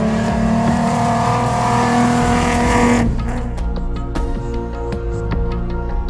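Small Seat 124 rally car on the Rallye Maroc Historique, engine roaring loud and close as it passes, then cutting to a lower idling drone with sharp clicks and knocks.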